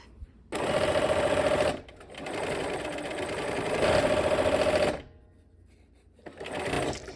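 Domestic sewing machine stitching fabric in two bursts of steady, fast mechanical whirring, close and fairly loud, with a quieter stretch between and a short final run.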